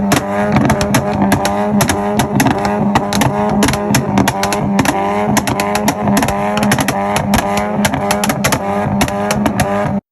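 Alfa Romeo Giulia engine and exhaust, a loud continuous rumble with rapid pulsing revs throughout, close by and unbroken.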